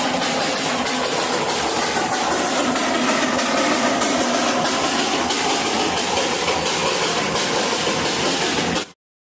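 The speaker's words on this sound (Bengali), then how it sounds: "মোনাস্ট্রি থেকে বেরিয়েই আমাদের সামনে এসে পড়ল টয় ট্রেন" Darjeeling toy train near Ghoom Monastery, giving off a loud, steady hiss and engine rumble that holds without a break for about nine seconds and then cuts off abruptly. No voices.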